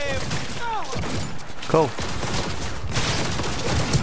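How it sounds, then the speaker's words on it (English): Rapid gunfire rattles in bursts during a Cyberpunk 2077 fight, sharp loud shots mixed with game effects while someone talks over the action. "I didn't mean to shoot at him."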